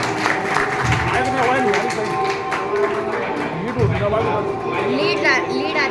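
An audience at an Indian religious gathering in Magroni, Madhya Pradesh, claps in a busy, uneven patter. Voices and crowd chatter run loudly on top of the applause throughout.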